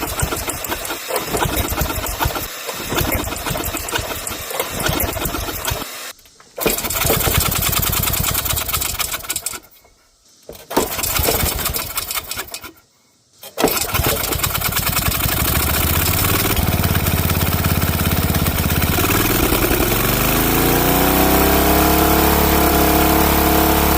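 Worn-out Snapper lawn mower engine runs loud and close, a steady raspy drone that twice cuts out to near silence, picks back up, then settles into a sustained rough running note.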